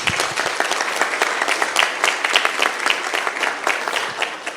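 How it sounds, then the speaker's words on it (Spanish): Audience applause at an expert forum session on regulation, brisk, fairly close clapping with distinct individual hand claps, continuing evenly throughout. "Muchas gracias, un aplauso."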